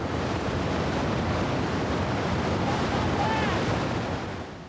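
Powerful white water of the Dudh Kosi river in Nepal rushes in a steady, loud, broadband roar that holds constant throughout before easing slightly at the end, with no voices.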